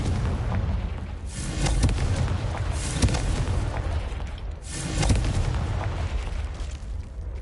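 Fiery Confringo blasts from Hogwarts Legacy boom in two heavy bursts, each swelling and rolling off over a constant low rumble, fairly loud and with no voices.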